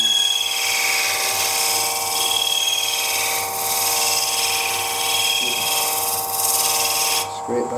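A woodturning tool works a bead on a spinning candlestick on a lathe, giving a loud, continuous whirring hum with a rough scraping texture that barely varies, and someone talks over it.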